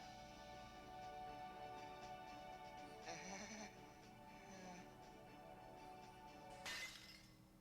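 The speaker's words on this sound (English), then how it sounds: "if the glass shattering noise means the same thing it always means, it means there's a random encounter" Glass shatters in the video game Radiant Historia, a sharp crash near the end signalling a random encounter, heard over quiet game music and faint, low-level sound.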